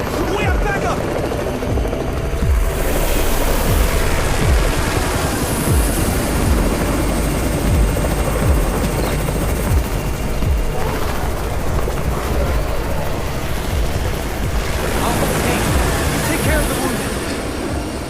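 A helicopter in the zombie survival game Undawn arrives with a loud, continuous rotor roar and rumble that builds and shifts, mixed with dramatic game sound effects over a long stretch.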